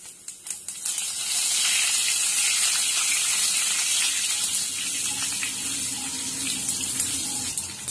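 A dense, steady crackling hiss of mustard seeds, urad dal, fenugreek and cumin popping in hot oil, loud and close, swelling after a brief start and holding without voices.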